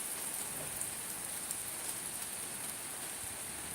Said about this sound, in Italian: Proprio una bella pioggia